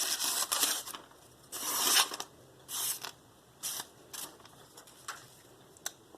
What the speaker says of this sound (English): It's making a lot more noise going through the paper.